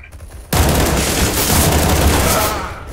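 Sustained burst of rapid gunfire from Counter-Strike: Global Offensive, loud and dense after a brief quiet start, with continuous overlapping shots and no talking.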